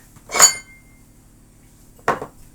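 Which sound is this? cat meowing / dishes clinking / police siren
dishes clinking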